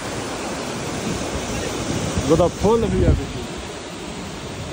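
A waterfall in Kumrat Valley, Swat, gives a loud, steady rushing roar while a voice briefly speaks over it.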